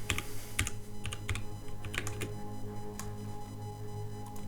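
Typing on a computer keyboard while entering commands in a Windows cmd window, a few quick bursts of clicky keystrokes over a steady low background hum, fairly close and moderately quiet.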